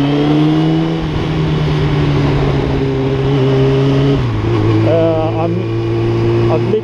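A motorcycle exhaust revs loudly and close, its pitch climbing and falling between shifts, mixed with rushing wind noise; a rider talks over it.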